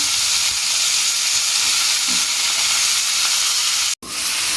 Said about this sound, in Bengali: এই যে পটলগুলো ভাজছি, এই যে দিয়ে দিয়েছি আগুনে, এই যে ভাজা হচ্ছে